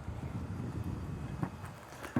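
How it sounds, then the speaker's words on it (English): Wind blows outdoors during car repair work on a Lexus LS 430, a steady low rumbling buffet against the microphone with a few brief thumps and gusts, fairly soft, with no one speaking. "It's windy outside and I hope you guys can hear what I'm saying."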